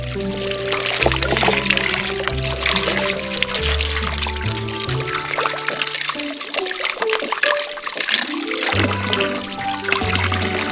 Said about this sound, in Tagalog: Sariwang-sariwang tubig.